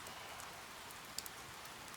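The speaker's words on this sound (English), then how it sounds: "I hope it stops raining by the time school gets out." Rain falling in Persona 4 Golden, a steady hiss of dense rainfall with a couple of faint drips standing out, quiet and continuous with no voices.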